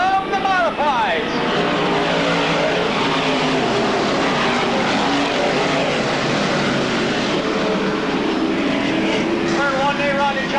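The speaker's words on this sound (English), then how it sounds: "The field rumbles back to life in turns 3 and 4, and they stand on the gas." Modified race cars accelerate out of turns three and four at Fonda Speedway in 1995, a dense, loud engine roar with rising pitch sweeps as the field passes, under a race announcer's commentary.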